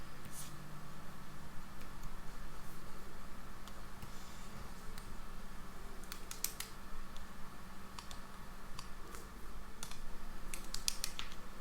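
Computer keyboard keys pressed in scattered bursts of quick clicks over a steady low room hum, some taps clustered together, moderately close with no talking.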